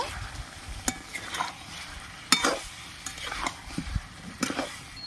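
Chicken stir-fried with whisked sour yogurt in a little oil, a low steady sizzle broken by several sharp spatula clanks and scrapes against the pan.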